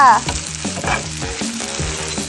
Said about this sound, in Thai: นี่เอาเส้นลงกระทะแล้วเห็น